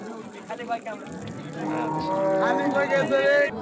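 Cattle at a village cattle market in Raniganj, where dairy cows and calves are sold, give several drawn-out moos up close. The lowing grows louder in the second half over the general crowd noise.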